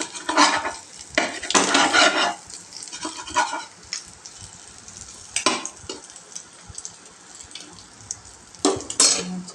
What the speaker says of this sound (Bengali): এগুলো আর একটু ভালো করে ওলট পালট করে ভেজে নেব